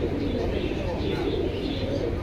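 Silver pigeons at a Jinjira bird market give low, soft cooing amid steady crowd murmur and voices talking nearby, the calls blending into the continuous market hum throughout.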